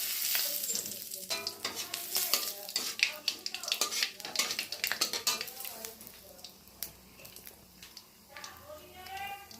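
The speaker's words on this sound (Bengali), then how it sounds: "তারপরে দেবো কালি জিরা, শুকনো লঙ্কা।" Nigella seeds and dried chillies crackle and sizzle in hot oil, with rapid popping bursts, utensil clinks against the pan and faint voices in the background.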